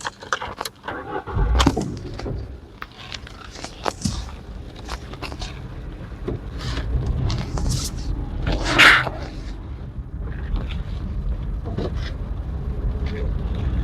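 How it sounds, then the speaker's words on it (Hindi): Maruti Alto K10 VXI Plus hatchback moving on the road, its engine note rising and settling as the driver pulls away in first and shifts into second, with cabin rattles and road noise throughout. "अब मैं दूसरे गियर पे शिफ्ट हो चुका हूँ और काफ़ी सही स्मूथ तरीके से चल रही है"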